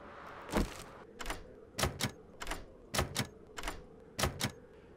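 Lockpicking in the video game 7 Days to Die: a series of sharp metallic clicks and ticks, roughly eight in irregular pairs, close and crisp over a quiet low hum.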